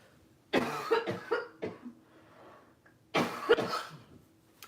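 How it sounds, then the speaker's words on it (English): Two bouts of harsh, hacking coughs close up, each a rapid cluster of several coughs separated by a short pause. "I need to stop coughing."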